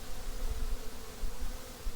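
A dense, steady buzzing of many honeybees at a hive fills the air up close, continuous and humming without pause.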